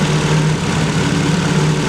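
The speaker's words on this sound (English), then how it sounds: "It's idling a lot better." A Toyota AE86 engine idles steadily in a low, even rumble with a constant hum, close and loud, with no voices.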